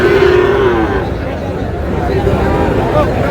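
Cattle at a busy rural bull-calf market for Sahiwal calves in Comilla let out a loud, drawn-out moo near the start, set against a constant hubbub of crowd chatter and voices talking nearby.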